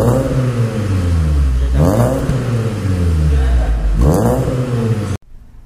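A VW Polo's engine revs loudly twice close by, each rev climbing in pitch before dropping back, the exhaust drone steady between them and cutting off abruptly at the end.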